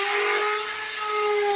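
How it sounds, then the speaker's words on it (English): A power drill bores holes while kitchen cabinets are built during a house renovation in Ormoc City, Leyte, the Philippines, giving a loud, steady, high motor whine held without a break. "And that's Roland drilling some holes."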